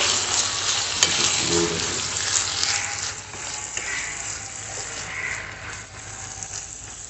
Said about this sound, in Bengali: আমি দশ মিনিট কষিয়ে নেব